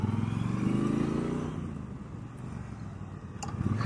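A 2019 Triumph Bonneville Bobber Black motorcycle engine rumbles steadily up close, a low throbbing drone that eases slightly midway and swells again near the end, with no talking.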